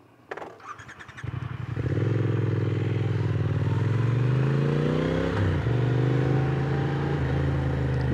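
A Triumph Speed Twin motorcycle starts with a few clattering pulses, then its engine settles into a loud, close, steady drone with a shift in pitch midway as it rides on.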